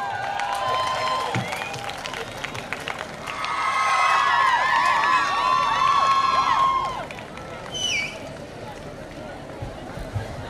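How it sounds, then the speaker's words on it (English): Clapping and crowd noise at a university sports day event as a coordinator is welcomed onto the dais, a broad wash of applause swelling in the middle, with a voice over a loudspeaker and scattered shouts around it. "onto the dais with a great round of applause"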